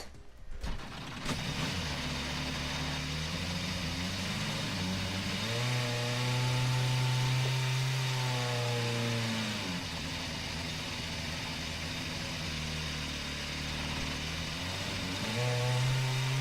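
Engine of a Volkswagen Beetle racing in Gran Turismo Sport at the Nürburgring, a steady loud drone with harmonic pitch sweeps as revs rise and fall, continuous and close with no talk.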